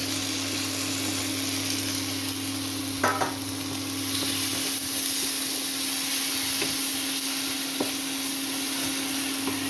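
Fried tomatoes go into a pan of spices and ginger for a Bengali fish curry, giving a steady close sizzle with occasional stirring scrapes and a brief clatter near the three-second mark.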